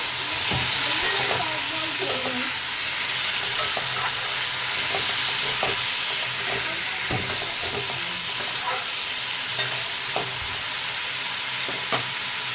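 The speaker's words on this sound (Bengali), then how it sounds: "ওই বাটিতে তেল নিয়ে ভালো করে নাড়িয়ে নেব" Oil, vegetables and a fish head being stirred in a pan for a fish-head and potato curry, with a steady dense sizzle and scattered scraping spoon clicks throughout.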